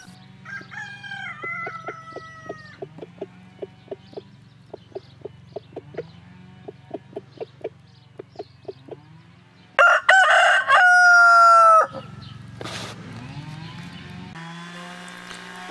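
A rooster crows in a garden, several drawn-out calls near and loud, with sharp clucks and other fowl noises around it and a dense burst of bird sound partway through.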